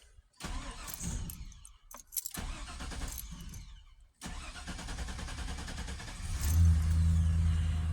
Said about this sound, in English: Let's crank it up and see what happens.